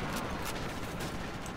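A rapid burst of MG42 machine gun fire in Call of Duty: United Offensive, a dense, continuous rattle of shots close and loud with no gaps.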